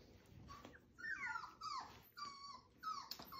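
A litter of five-week-old puppies whimper and whine in several high, wavering cries, close but fairly quiet, with brief pauses between them.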